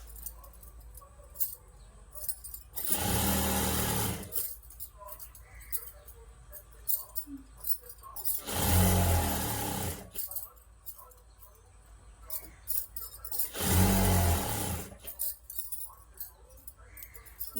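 A normal home sewing machine stitches a saree fall in three separate runs of loud, rapid whirring and clatter, each lasting about a second. Quieter stretches between the runs hold light fabric handling and faint clicks.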